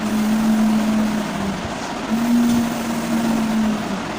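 A voice imitates a van driving with a steady, loud humming drone, held in two long stretches with a short break between them and no other speech.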